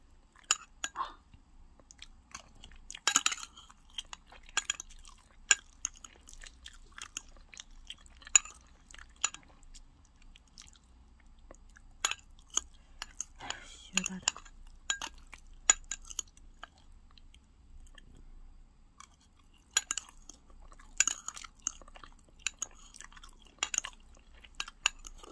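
Crunchy snacks being chewed and bitten close up, irregular crisp crackles with occasional faint clinks of dishes and no talking.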